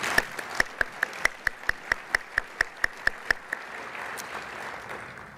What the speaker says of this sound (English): Let's give them a round of applause a moment.